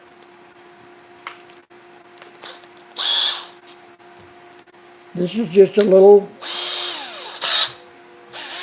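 Short bursts of a handheld power drill whirring on and off while drilling with a center drill, with someone talking between and over the drilling.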